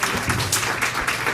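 A symposium audience on government information access applauds Dr. Laura Najavetian, a steady dense wash of clapping filling the short moment without pause.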